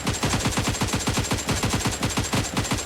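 Rapid automatic gunfire in a first-person shooter game, a loud, continuous stream of evenly spaced shots fired in quick succession with no pauses and no talking.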